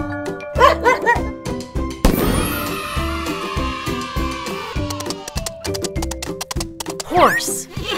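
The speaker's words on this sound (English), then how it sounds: "A dog lives in a kennel." A dog barks a few times near the start over a light musical backing in a children's animal lesson, followed by a long swooshing sweep and plinking tones.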